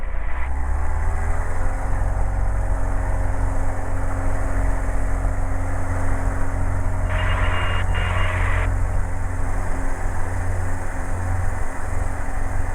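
A CarbonCub NX light aircraft engine droning steadily in the cockpit as it powers up for takeoff, a loud constant hum with a brief higher hiss partway through and no talk.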